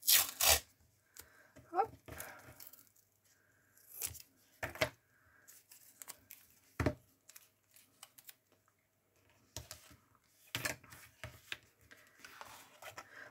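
Small strips of tape being cut and torn to cover metal while assembling a book-shaped organizer box, with short close crisp snips and rips in bursts among quiet pauses and a brief spoken word.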